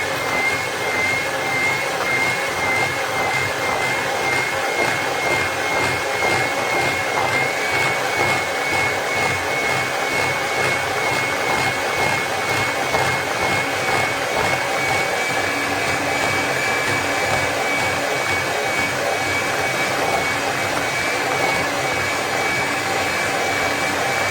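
An electric mixer whips eggs and sugar for a white chocolate and lemon genoise batter with a loud, constant motor whir. It runs evenly and close without a break for the whole stretch, with no speech.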